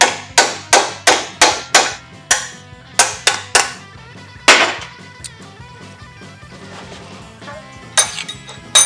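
Sharp, ringing hammer blows strike a steel hot rod motor mount bracket held in a vise, a rapid run of about a dozen evenly spaced metallic clanks followed by a few scattered hits and a pause, loud and close.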